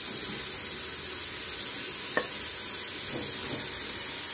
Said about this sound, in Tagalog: Saka po natin ilagay ang beef.